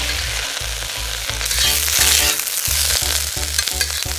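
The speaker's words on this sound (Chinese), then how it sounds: "青菜煸一下呢，就是更香一点，不会有那种青菜的生腥气" Leafy green vegetables stir-fried in a hot wok until half-cooked give off a steady, bright sizzle with bursts of tossing. A regular, thumping low beat runs underneath throughout.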